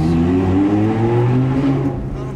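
A car engine revs hard while climbing through third gear, loud and close, its harmonic tones rising steadily over about two seconds with a faint voice underneath.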